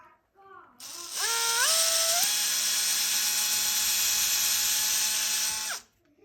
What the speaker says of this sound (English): Then I drill a hole in here.